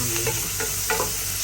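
Sautéing in cooking oil for a Filipino chicken-bone and mung bean dish, a brief steady sizzle with light stirring, close and even, no talk.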